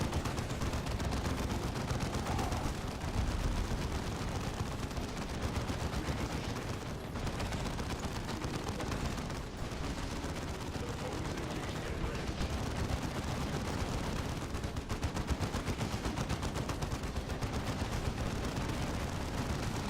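Continuous rapid gunfire and explosions from the Space Marine video game, a dense, loud, unbroken barrage of shots with heavy low rumble lasting throughout, with faint voices underneath.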